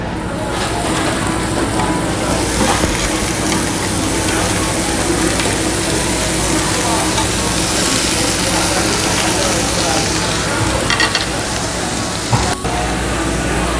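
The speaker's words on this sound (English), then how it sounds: "our plate of brisket has arrived. We're gonna go ahead and get it on this grill, get that fat rendered down to season everything." Thin-sliced beef brisket sizzles loudly on a Korean barbecue grill at an all-you-can-eat restaurant, a dense, steady hiss running throughout with brief clicks and clatter near the end.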